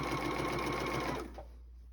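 A Bernina sewing machine stitches a seam at a long stitch length, a steady close mechanical whir that runs evenly and then winds down and stops near the end.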